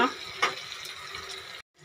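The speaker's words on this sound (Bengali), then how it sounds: "মশলার জলটা দিয়ে দিলাম।" Spiced water splashed into a cooking pan of vegetarian taro stolon curry, a short liquid pour with a small burst before cutting off abruptly.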